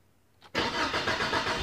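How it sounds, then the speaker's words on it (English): A car engine cranks briefly with a short starter whir, then catches and settles into a steady idle rumble, heard close and alone. "Try to start the car."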